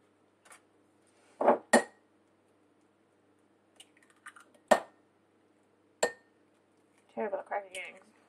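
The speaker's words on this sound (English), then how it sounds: "Terrible at cracking eggs." Four eggs cracked one after another into a mixing bowl for a heart-shaped cake batter, giving a few sharp, close taps and clicks of shell on the rim, spaced out between quiet pauses, with a brief wet rustle at the end.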